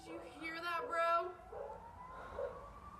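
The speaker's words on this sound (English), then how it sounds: "Right when she came out, she heard sirens." A police siren wails in the distance, its pitch sweeping up and down, partly overlapped by voices.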